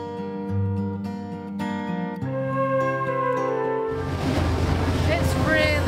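A boat engine on a Venice water taxi rises from a low idle to a loud, vibrating roar about four seconds in, mixed with rushing water and wind. Music plays at the start, and voices talk faintly.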